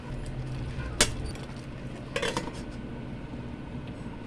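Buttered shrimp stirred in a pan, with two sharp metallic clinks of a utensil against the pan over a low background hum, close and sparse, no talk.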